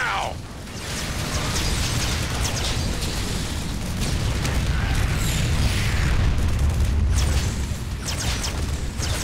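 A warhead detonates in StarCraft 2, heard as a heavy rumbling blast with booming low end and crackling debris that rolls on for several seconds before tapering off.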